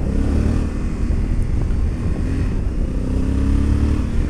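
A 2021 Honda Africa Twin on a race track, its engine roaring loudly and steadily close by with low rumble and wind rush, the pitch rising and falling as it's ridden.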